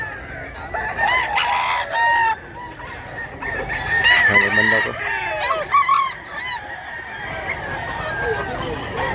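Roosters crow and hens cluck repeatedly at a chicken-filled outdoor spot, the calls rising and falling close by while someone talks over them at times.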